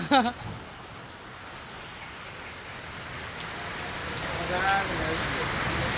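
Steady rain falls on surfaces outdoors during bad weather in Becharaji, a soft continuous hiss at low volume with a brief louder patter near the start.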